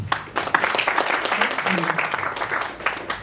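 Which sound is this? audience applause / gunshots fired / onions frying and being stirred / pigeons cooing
audience applause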